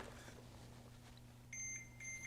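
A digital scale holding a portable fishing electronics setup gives two short high electronic beeps in its second half, over a steady low hum and faint room noise.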